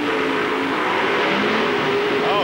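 A Chevrolet monster truck's engine rumbles loud and close as it rolls into staging at a 1995 Indianapolis race, a steady roar that builds slightly toward the end.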